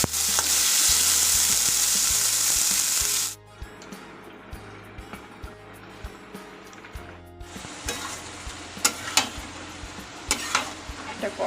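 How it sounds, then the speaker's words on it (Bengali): Jute leaves (pat shak) frying in a pan, a loud steady sizzle at first that then drops to quieter crackling with stirring scrapes and clicks. "পাট শাক ভাজা হচ্ছে, আর একটু শুকনো শুকনো করবো।"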